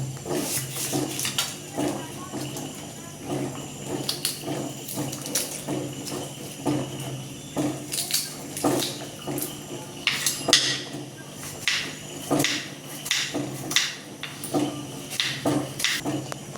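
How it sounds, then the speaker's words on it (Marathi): An onion being chopped with a knife in a home kitchen: close, repeated knife knocks on a board in an uneven rhythm, with light clatter of utensils. "कांदा पण आपण लगेच कापून टाकू त्याच्यात"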